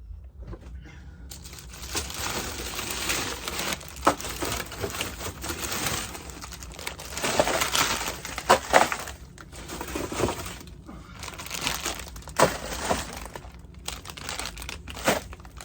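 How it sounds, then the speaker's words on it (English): Bags of frozen tomatoes rustle, crinkle and thud as they are tossed into a roaster pan in a home kitchen, a continuous busy clatter of plastic and icy knocks at moderate loudness. "I'm going to throw them into the roaster pan."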